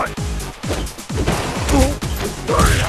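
Street Fighter IV Arcade Edition fight between Dhalsim and E. Honda, with a rapid run of punchy game hit impacts and a crunchy strike layered over busy fight effects and music.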